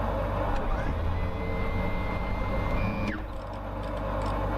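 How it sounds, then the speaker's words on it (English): Flaps move on a Carenado Cessna Turbo Centurion CT210N in the X-Plane flight simulator, a whining electric motor tone over the steady drone of the cabin engine, ending with a click near the end. "I love the way the flaps sound."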